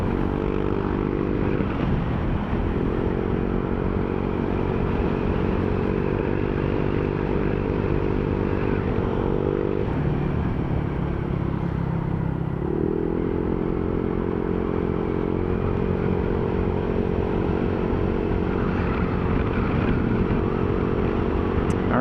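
A Honda ADV160 scooter fitted with a new power pipe exhaust drones steadily and loudly up close, its engine pitch dipping and rising briefly as the revs change.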